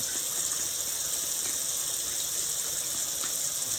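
Tap water running steadily into a sink to rinse a dental instrument, a constant close hiss and gush with no pauses and no voices.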